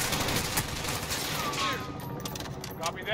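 Rapid gunfire in the Modern Warfare campaign, dense bursts of automatic fire with sharp shots, loud and close, plus a faint voice partway through.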